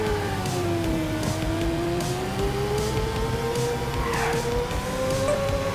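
Racing engine whine from the PC video game Neo Sprint, a continuous synthetic motor tone gliding up and down in pitch with brief skid-like bursts, steady and fairly loud with no talk over it.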